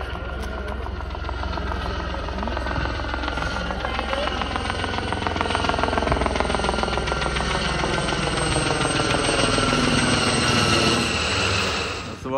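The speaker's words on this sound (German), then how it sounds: "War, glaube ich, ein Militärhelikopter." A military helicopter roars loudly and continuously close by over the Ksar Ghilane oasis in the Tunisian Sahara, its rotor chop and engine whine steady throughout, with faint talk mixed in.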